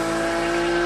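A Porsche 911 GT3 of the 991 generation with a PDK gearbox revs high toward 9,000 rpm, a loud, sustained, close engine wail with rich harmonics for just under a second.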